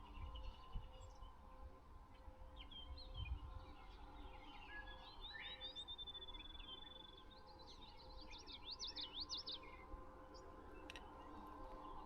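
Several birds, including a canary, chirp and trill in the distance over a steady low background rumble, with short song phrases repeating.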